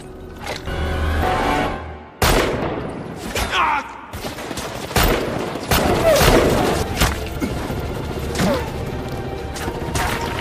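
Gunfire rings out in a violent film action scene, loud bursts and sharp impacts scattered over the stretch amid crashes and mechanical clatter.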